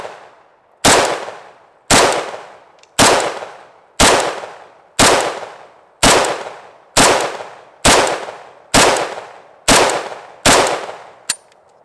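Eleven loud, sharp gunshots ring out one after another at an even pace of about one per second, each fired into stacked sandbags and trailing off in a short echo.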